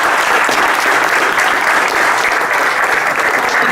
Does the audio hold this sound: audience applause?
yes